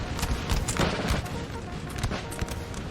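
Napoleonic-era battle in Napoleon: Total War, with a dense crackle of musket volleys and cannon booms overlapping in a continuous, busy barrage, loud and sustained throughout.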